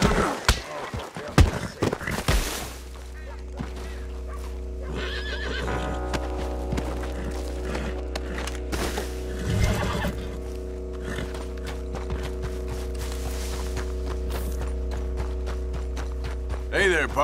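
A horse neighs and hooves clop nearby in Red Dead Redemption II over a steady low hum, with scattered thumps and clatter continuing throughout.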